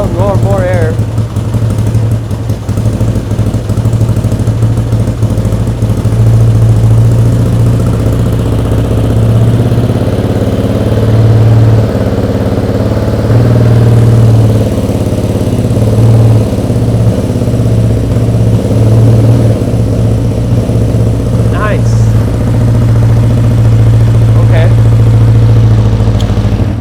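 A Honda CB550 motorcycle engine runs on choke with the throttle held slightly open, keeping a loud, steady, close-up idle with a low uneven throb and slight surges.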